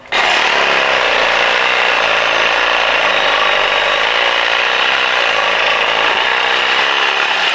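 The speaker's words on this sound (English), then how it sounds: "Hit it with the Sawzall blade. Sure. It's just aluminum." Sawzall reciprocating saw cutting through aluminum during a torque converter install, a loud, steady, buzzing rasp of the blade running continuously and close.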